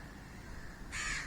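A single crow caws briefly near the end, a harsh, fairly faint call against a quiet background.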